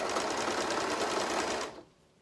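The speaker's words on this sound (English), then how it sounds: "my overlocker's making a very funny noise." An overlocker runs with a fast, steady mechanical whirring and a rhythmic rattle, making an odd noise while stitching, then stops abruptly near the end; it is close and alone with no voices.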